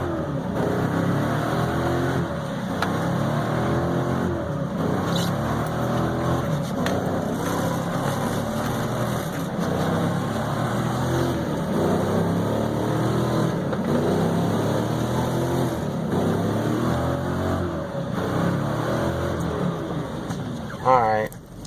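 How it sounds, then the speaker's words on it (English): A truck's 5.3L V8 held against the rev limiter in snow, a loud, close, sustained engine roar with a stuttering, bouncing pitch. It runs continuously for over twenty seconds with voices partly mixed in. "I think I've had my daily dose of rev limiter."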